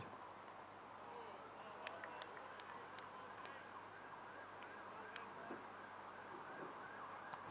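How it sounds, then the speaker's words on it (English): A police car siren wails faintly in the distance at an outdoor cricket match near a road, a thin steady tone sitting low under the background ambience with occasional light knocks. "Sound of a police car in the distance."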